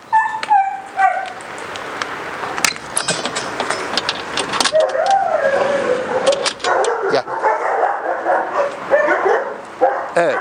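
A male dog yips and whimpers repeatedly in short, excited bursts, fairly close, over a steady background rumble.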